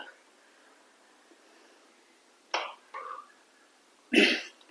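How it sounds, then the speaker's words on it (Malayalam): A couple of short coughs, brought on by the pungency of ground ginger, break an otherwise quiet room, the last one louder and harsher, close by. "ഇഞ്ചിയുടെ കാരം നമുക്ക് ചുമ വരുന്നുണ്ട്"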